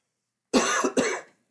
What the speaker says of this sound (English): Pardon me for the cough.